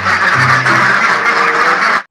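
A duck quacks loudly and close in one continuous nasal call lasting about two seconds, then cuts off abruptly.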